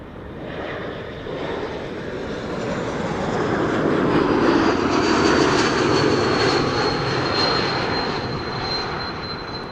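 An airliner passes by outdoors at an airport, a steady broad engine roar that swells and fades, with a thin high whistle running through it.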